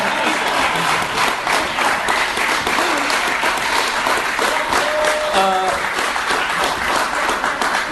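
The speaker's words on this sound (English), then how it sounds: "Clap, please. Please clap." Sustained applause from a live-show audience, dense and steady clapping, with a brief voice heard faintly beneath it.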